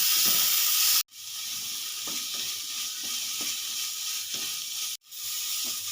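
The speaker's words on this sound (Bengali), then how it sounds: "চিংড়ি মাছ গ্যাসের ফ্লেমটা লো করে আমি তিন থেকে চার মিনিট মতো ভালো করে ফ্রাই বানিয়ে নেব" Shrimp fry in a pan over a low gas flame, giving a continuous bright sizzle with soft stirring taps. Two brief cuts break the sound, and no one speaks.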